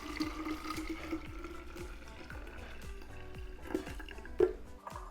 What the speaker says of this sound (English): I don't want to spill celery juice all over my counter.